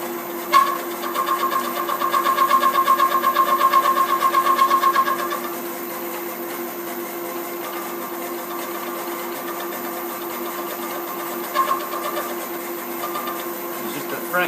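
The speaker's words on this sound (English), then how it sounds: "So we want to wind in until we see the cutter cutting the full depth." Milling cutter on a Bridgeport mill machining R8 tooling: a steady mechanical whir with a chattering, buzzing cutting tone that strengthens for a few seconds and then settles, with occasional clicks and no talking.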